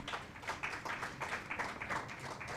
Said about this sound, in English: So a big round of applause to both of them, and let's launch the book